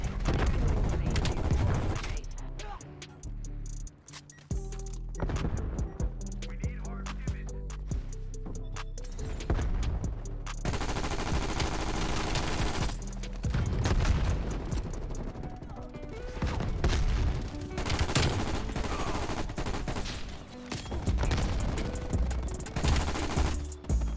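Rapid bursts of Vargo 52 assault rifle fire in Call of Duty: Cold War multiplayer, loud and sustained across the whole stretch, broken by brief pauses and mixed with game effects.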